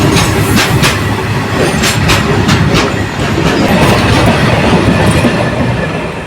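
An Indian Railways goods train passes close by, a loud continuous rumble with rhythmic clickety-clack from the wheels over rail joints and faint wheel squeal.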